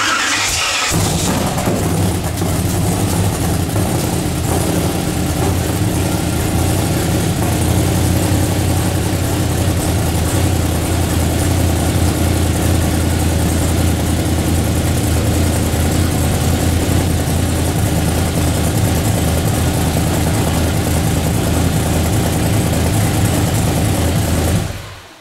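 A Brogie car engine that has not run for a year idles steadily after start-up, a loud, continuous low rumble that holds evenly for the whole span.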